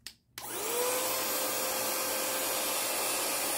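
A household vacuum cleaner clicks on and spins up to a loud steady whine with a rising motor tone, then keeps running evenly close to the microphone.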